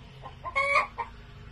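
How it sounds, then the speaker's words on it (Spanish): A recorded chicken gives a short burst of clucks, a few quick calls close together, played back alone over a faint low hum. "Este es el sonido que hacen los pollos."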